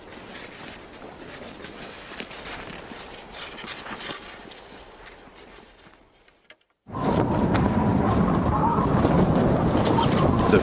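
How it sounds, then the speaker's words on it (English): Winter storm wind in Moravia at 20 below, a steady gusting rush that fades to near silence, then returns abruptly as a louder, denser roar of wind. "The first storm of the winter has arrived in Moravia."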